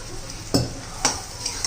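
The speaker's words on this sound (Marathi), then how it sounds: "आता आपण हे जे खोबरं, आलं, लसूण, खोबरं, हिरवी मिरची आणि कोथिंबीर, हे पण आता तेलामध्ये परतून घेऊया." Coconut, ginger, garlic, green chilli and coriander are sautéed in oil for a dry cluster-bean dish, a low sizzle under two or three sharp spoon scrapes and clinks against the pan.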